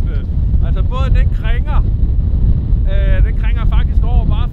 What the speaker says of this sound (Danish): der kommer godt nok nogle hissige vindpust